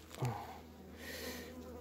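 Honeybees drone softly in an opened hive, a faint steady hum following a brief knock at the start.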